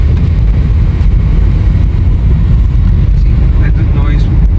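A Maruti Suzuki SX4 sedan-crossover drives along with a muted, steady low rumble of engine and road noise and some wind buffeting, while someone talks over it throughout.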